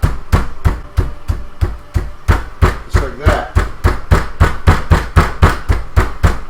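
A mallet pounds chicken covered in plastic wrap in a kitchen, a loud, rapid, steady series of dull thuds repeating roughly three times a second, with a brief spoken remark mixed in.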